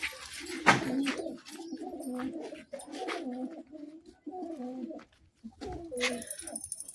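A pigeon suffering from a cold coos repeatedly while being held, low burbling phrases close by with brief pauses between them and a faint handling rustle, no talk.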